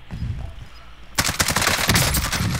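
Gunfire in Call of Duty Warzone breaks out after a quiet second: loud, dense, rapid automatic bursts that crackle continuously to the end, with no voices.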